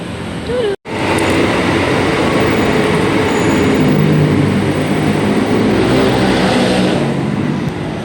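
Loud, steady rumble of a KRL commuter electric train ride near Tanjung Barat, a continuous broadband roar heard from inside the carriage with a brief dropout near the start.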